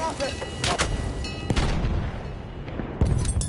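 An anti-tank grenade blast in the Battlefield 1 multiplayer game, heard among a dense run of booming explosions and artillery-like fire, with bursts near the start, middle and end.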